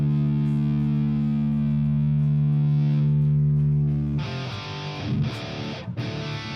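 An electric guitar played through the Mercuriall Ubersonic amp simulator rings out a loud, sustained distorted chord that slowly fades, then breaks into several tight, choppy high-gain chugs.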